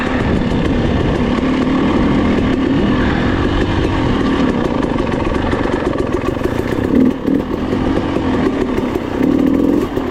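Enduro dirt bike ridden on a natural-terrain motocross trail with banked turns, its engine roaring loud and close throughout, revving and bogging with a brief dip near the middle, no talk.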